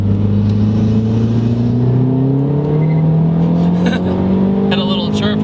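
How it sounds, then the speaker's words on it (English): A 2009 MazdaSpeed3 engine roars close by as it accelerates, its pitch climbing steadily, with a tire chirp midway through the power band and a few sharp backfire pops near the end. "Had a little chirp halfway through the power band and a backfire."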